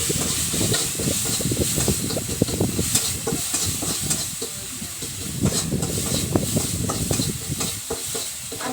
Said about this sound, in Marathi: हे लसण मीठ आहे मला परतून घ्यायचे आता